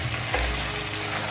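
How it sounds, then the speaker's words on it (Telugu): Gongura mutton curry with chili powder stirred in a pan, a short burst of gentle sizzling and scraping up close. "ఇప్పుడు గోంగూర మటన్లో కారం వేస్తున్నాను. ఒకసారి శుభ్రంగా కలుపుదాము."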